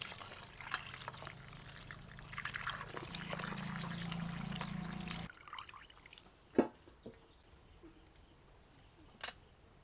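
Tap water trickles quietly over tender bitter gourds (karela) being rinsed in a kitchen, a soft steady flow lasting about five seconds before it stops, leaving faint handling clicks and taps.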